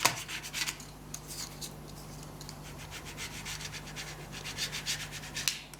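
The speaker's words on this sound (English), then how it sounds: "they say to use like a credit card or a plastic card or something like that as a squeegee" A plastic card is pushed across a sticker like a squeegee, giving quiet, rapid scraping and rubbing strokes in short repeated bursts over a faint background hum, no voices.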